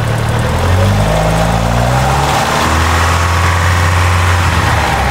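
A car engine running rough at high revs, a loud, steady mechanical drone with a tapping, knocking roughness throughout, up close.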